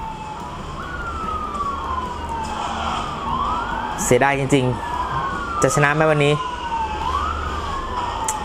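A police car siren in a mobile racing game played on a Samsung A30 phone wails in repeated rising and falling sweeps throughout, while someone talks briefly over it midway.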